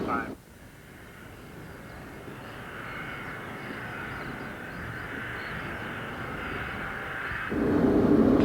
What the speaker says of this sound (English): There's more noise as wheels protrude into the airflow beneath the aircraft.